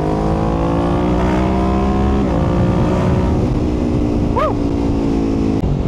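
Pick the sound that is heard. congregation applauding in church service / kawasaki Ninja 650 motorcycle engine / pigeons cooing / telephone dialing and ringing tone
kawasaki Ninja 650 motorcycle engine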